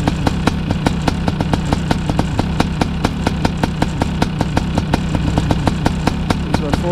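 A BRC 500 snow bike engine with a 40 mm carburetor idles after start-up, a loud, close, steady single-cylinder putter with evenly spaced firing pulses throughout.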